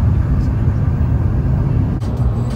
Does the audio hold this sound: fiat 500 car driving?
yes